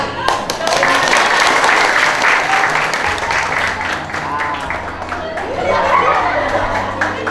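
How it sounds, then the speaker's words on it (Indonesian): Schoolchildren in a classroom clap together, a loud, close burst of ragged hand claps that rises, dips and surges again, with children's chatter and voices mixed in throughout. "Tepuk tangan ya."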